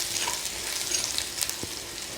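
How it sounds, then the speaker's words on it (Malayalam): Grated coconut fries in a pan until light brown, giving a soft continuous sizzle with faint stirring scrapes, close and steady without talk. "തേങ്ങ ഒന്ന് ചുവക്കെ അതായത് ലൈറ്റ് ബ്രൗൺ നിറം വരുന്നവരെ ഒന്ന് വറുത്തെടുക്കാം."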